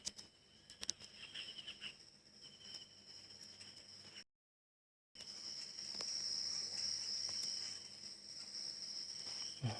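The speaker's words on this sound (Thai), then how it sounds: "มีเสียงจิ้งหรีดร้อง ด้วย" Steady cricket chirping in a forest in the video game Gangstar New Orleans fills the air at a low, even level, with a brief total silence partway through before the chirping resumes.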